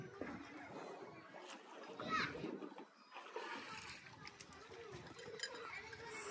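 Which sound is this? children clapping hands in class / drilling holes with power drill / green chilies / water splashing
water splashing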